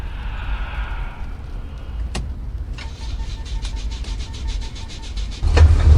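A car in the video game The Escape Together starts up: a sharp click, then a run of rapid mechanical ticks and a deeper rumble surging up at the end as it pulls away.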